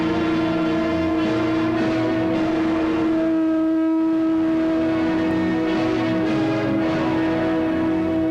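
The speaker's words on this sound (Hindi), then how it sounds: "ये शंख अर्जुन पुत्र अभिमन्यु बजा रहा है।" A conch shell blown in a televised Mahabharata battle drama, a loud sustained droning tone with steady harmonics holding unbroken for several seconds, close and alone with no talk.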